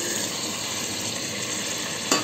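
Three to four tomatoes go into a hot pan of frying spices for a soybean biryani, giving a loud, dense, continuous close sizzle with a brief stir near the end.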